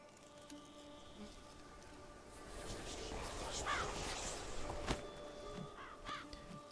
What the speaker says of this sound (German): Was war das? Ein Rabe.